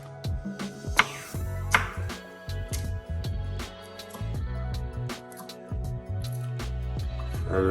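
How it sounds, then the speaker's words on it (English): Chili being finely chopped with a sharp knife on a cutting board for a chicken stir fry, a close, rapid run of crisp knife taps with brief pauses, no talking. "I'm going to chop this fairly finely."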